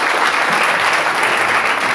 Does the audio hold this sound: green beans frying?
no